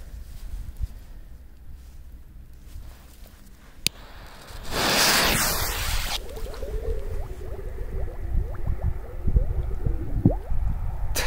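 A K-05 firecracker goes off underwater with a muffled thump and a burst of churning water, followed by a few seconds of bubbling gurgles against a quiet outdoor background.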